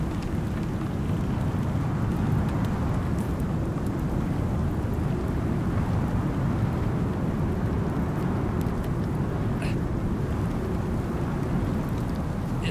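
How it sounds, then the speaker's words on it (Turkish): Stormy weather in the survival game ICARUS: a dense, constant roar of heavy rain with low rumbling thunder, loud and unbroken, with no speech. "Ve şu anda çok kuvvetlenecek fırtına."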